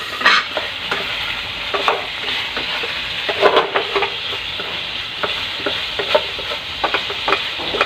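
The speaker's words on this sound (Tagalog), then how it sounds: "Kung lagay na natin yung ilang piraso ng sibuyas." Onion pieces fry in a pan alongside a red chili, giving a steady sizzle broken by frequent scraping and clacking strokes of a spatula stirring, close and fairly loud, with no voices.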